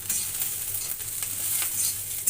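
Guar beans (cluster beans) frying in a little oil in a pan, a steady soft sizzle with faint stirring scrapes running continuously, close and even, no talk.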